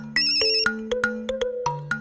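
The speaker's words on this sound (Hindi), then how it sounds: "उसका ही फोन आ गया" A mobile phone ringtone for an incoming call plays loud and close, a bright electronic melody of repeated tonal notes over a sustained low tone, sounding alone for about two seconds.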